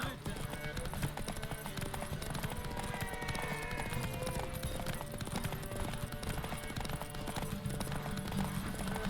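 Roach the horse's hooves clip-clop in The Witcher 3 under dense game music and ambience, with a steady trotting rhythm and occasional whinnies, while a voice talks over it.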